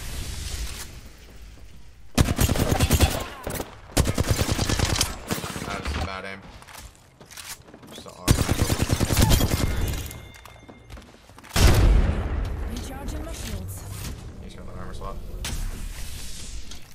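Loud bursts of video game gunfire from a battle royale firefight arrive in several separate volleys, each a few seconds long, with quieter mechanical clatter and a voice talking in the gaps.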